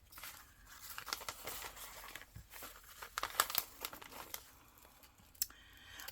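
Paper bag edges being trimmed, close crinkling and crumpling of paper with short tearing and snipping bursts at an uneven rhythm, no talk.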